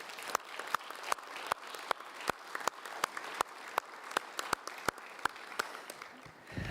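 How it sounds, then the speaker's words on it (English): Conference audience at the Arctic People's Conference breaks into applause, a dense wash of many hands clapping close and steady, with sharp individual claps standing out throughout. "let's give a warm round of applause to everybody who shared."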